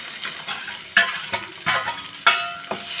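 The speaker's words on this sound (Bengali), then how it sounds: "রসুন পেঁয়াজটা সুন্দর করে আবার ভাজা ভাজা করব।" Garlic and onion sizzle and crackle in hot oil in a pan alongside dried fish and shrimp, with the spatula scraping and stirring in uneven strokes, close and loud, no talking.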